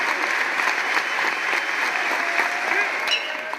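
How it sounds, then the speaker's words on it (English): Dense crowd noise at a Georgia Tech versus Ole Miss college baseball game, cheering and clapping as a steady roar, with a commentator talking over it. "Even with the crowd noise."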